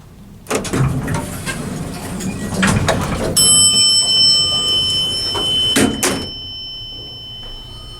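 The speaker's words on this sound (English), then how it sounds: "Love that bell." A Montgomery elevator arrival bell in a modded Otis traction elevator at University Hall, UC Berkeley, sounds as a single bright chime near the middle, ringing on over the hum of the car and the door motion.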